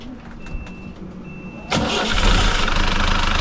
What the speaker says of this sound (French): le moteur va démarrer